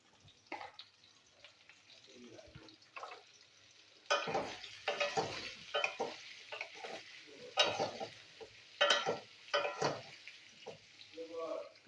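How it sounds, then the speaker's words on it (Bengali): Papaya pieces with salt and turmeric fry in hot oil, soft sizzling broken by repeated stirring scrapes and clatters of a spatula in the pan, fairly close and moderately quiet. "দিয়ে পেঁপেটা আমি একটু ভেজে নিচ্ছি।"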